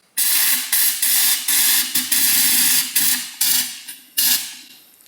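Spray gun applying undercoating to a 2022 Toyota Tundra, a series of loud hissing bursts, about seven or eight trigger pulls of varying length separated by short gaps, close and with no talk.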